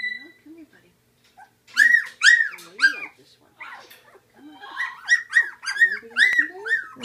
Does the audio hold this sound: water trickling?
no